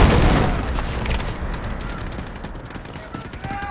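Dense burst of gunfire and booming explosions in the Delta Force military shooter game, loud and continuous at the start and easing off slightly, with a voice talking over the battle.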